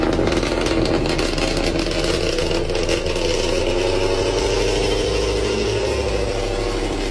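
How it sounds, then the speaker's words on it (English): A loud car engine idles at 7:30 in the morning, a steady, close, throaty drone with a busy mid-range rasp that holds evenly from start to finish with no voices. "my car is so loud in the morning"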